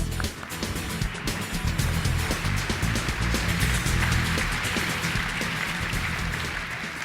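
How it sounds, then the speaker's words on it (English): Applause at a hearing-technology presentation after regional managers are introduced, a moderate, somewhat distant patter of clapping from a modest crowd, steady over several seconds with some low rumble beneath. "Let's give them all a round of applause"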